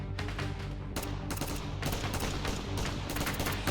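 Rapid automatic gunfire rattles in a Roblox shooting game, with dense repeated shots and short bursts that run almost continuously, loud and close, with no voices.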